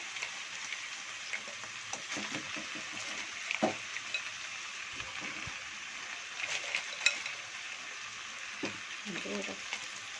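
Marinated crabs dropped into onion masala frying in a pan for a Godavari-style crab curry: a faint, steady sizzle with scattered clinks and shell taps, and a voice talking over it.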